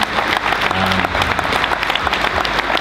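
Audience applause at a bodybuilding press conference, honouring Dallas's sister Katie and partner Ashley: steady dense clapping from a room full of people, close and continuous throughout with a faint murmur of crowd beneath.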